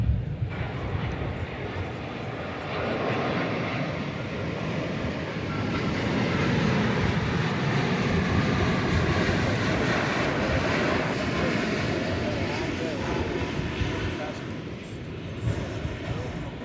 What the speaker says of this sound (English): It's a Dash 9 Dreamliner. We don't normally see this come in.